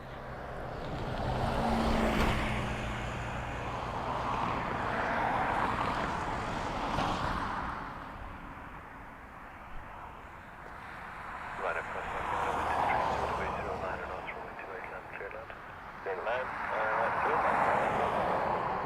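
A Ryanair airliner arriving from Manchester at Dublin Airport gives a steady broad roar with a low rumble that swells and eases across the clip, sitting under continuous talking throughout.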